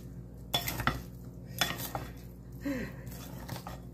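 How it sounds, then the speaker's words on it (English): A spoon stirs tuna potato salad in a bowl, giving a few close, soft scraping and clinking strokes against the dish with quiet pauses between them. "Let's see if you see me stir it."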